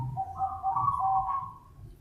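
Soft, low cooing of a young zebra dove (perkutut) from close by, a smooth drawn-out call lasting about two seconds with no talking over it.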